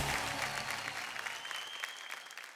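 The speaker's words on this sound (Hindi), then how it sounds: "ओके, जोरदार तालियां हो जाए इन लोगों के लिए" Studio audience at a children's drama talent show on television bursts into loud, dense applause that sustains evenly throughout, with a faint whistle-like tone riding over the clapping.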